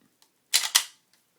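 The bolt of a Winchester Model 12 shotgun is pulled back during reassembly. It makes two sharp, close metallic clacks in quick succession, with near silence around them.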